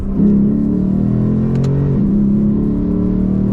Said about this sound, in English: Shift it to manual mode, a few downshift. Listen to that.